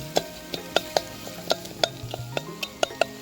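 Vegetables with turmeric powder roast in a pan as a utensil knocks and scrapes it in a rapid, fairly regular series of sharp taps over a faint sizzle; no speech.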